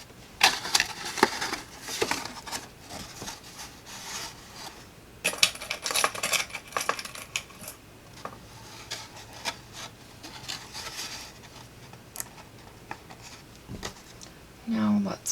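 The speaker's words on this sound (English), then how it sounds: "I just want to see if my envelopes will fit in here." Paper envelopes and small metal paper clips handled inside a decorative card box give intermittent close rustles, scrapes and light clicks in uneven clusters, louder in places.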